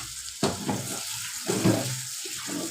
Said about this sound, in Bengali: এই যে শুটকিটার মধ্যে পানি দিয়ে দিলাম